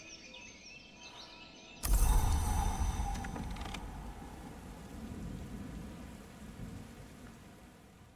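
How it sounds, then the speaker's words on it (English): Stormy weather in the video game Book of Hours, where a sudden loud thunderclap breaks over a steady rain hiss and slowly rumbles away while the rain continues, with faint creaking mechanisms underneath. "It's another stormy day."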